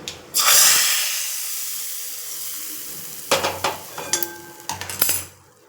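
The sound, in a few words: pouring sizzling tempering into naarthangai (citron) rasam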